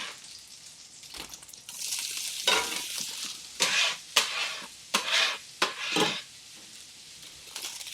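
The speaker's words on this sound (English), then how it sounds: "And I'm going to put a little bit of olive oil in. And I'm going to put my green onions in." Green onions frying in olive oil in a pan, a soft sizzle under a run of sharp utensil scrapes and stirring clatters, close and varying in loudness.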